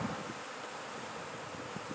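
Honey bees buzzing around an opened hive during a beginner beekeeping visit in spring, a faint, steady hum with light rustling and a brief soft bump at the start.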